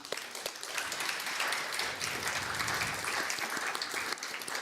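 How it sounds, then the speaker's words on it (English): An audience applauds panelists at the close of a discussion on reproduction technology and artificial wombs, a steady dense wash of many hands clapping throughout, moderately distant and even. "I think we can give them an applause"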